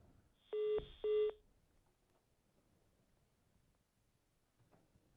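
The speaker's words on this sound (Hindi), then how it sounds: "शायद मदन राठौर जी का फोन कट गया है।" Two short, clean electronic beeps sound in quick succession as a telephone call to a TV news debate guest drops, followed by near silence with a faint background hum.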